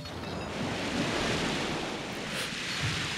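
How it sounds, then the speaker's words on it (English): Ocean waves in the video game Paper Mario: The Thousand-Year Door make a continuous, loud, hissing surf wash with soft swells and no talking. "you want to watch out for the waves"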